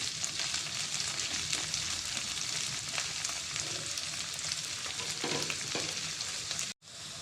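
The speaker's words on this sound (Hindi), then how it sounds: "भिंडी हमारी फ्राई हो चुकी है।" Okra being fried in a pan, a dense, continuous crackling sizzle that stays loud and even throughout, with occasional stirring scrapes, cut off abruptly near the end.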